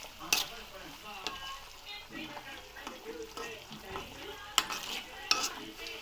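Herbal oil with neem leaves, curry leaves, aloe vera and fenugreek seeds is stirred over a low flame. A gentle, close bubbling sizzle continues throughout, broken by a few sharp clinks of the spoon against the pan.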